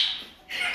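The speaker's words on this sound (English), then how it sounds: "I hear a bird in the background talking in a really cute voice." A short, bright bird call sounds twice in quick succession, thin and high-pitched, fairly faint in the background.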